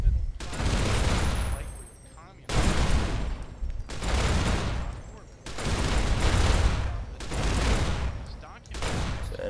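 A Warhammer 40k-themed gun mod fires in Fallout: New Vegas, giving about six heavy, sustained roaring blasts, each over a second long, that come in steady succession with brief quieter gaps between them.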